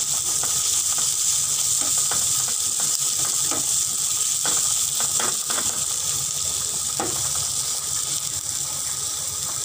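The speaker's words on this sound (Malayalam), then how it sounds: "ഒനിയൻ ഒന്ന് ഫ്രൈ ചെയ്യിപ്പിച്ചെടുക്കാം." Onion fries in a small amount of oil while Kerala-style fish curry is cooked, making a continuous close sizzle scattered with sharp pops and crackles throughout, with no talking.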